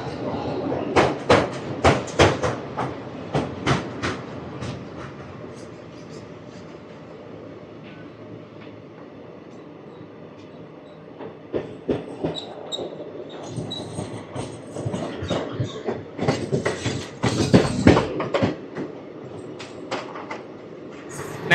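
An Indian Railways train runs on rails near Chebrolu station, with rhythmic clacking of wheels over rail joints and rumbling carriages, loud bursts at the start and again later, while a voice talks over it.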